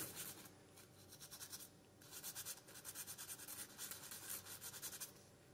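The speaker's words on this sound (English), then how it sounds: "I'm going to use 320 sandpaper, dry. And all you want to do is just take the corner, just lightly sand" Dry 320-grit sandpaper lightly rubs enamel stove paint in a series of soft, close, rapid scratchy strokes that come in short bursts, with no voices present.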